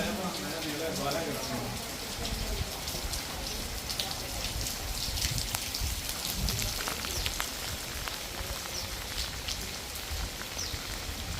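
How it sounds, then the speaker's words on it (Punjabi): Light rain falls steadily at an outdoor dairy cattle farm, a dense even patter of drops on surfaces that continues without a break from start to finish, with no voices over it. "ਥੋੜਾ ਮੀਂਹ ਪੈਣ ਡਿਆ"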